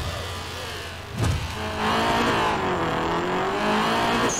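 Race car in the Night Runners driving game accelerating hard, engine revving and climbing in pitch close up, with a brief thump before the sustained high-rev roar.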